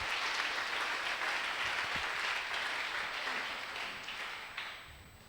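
A church congregation applauds and acclaims the Lord during a sermon, a steady dense wash of clapping that holds loud for several seconds, then slowly thins and fades toward the end.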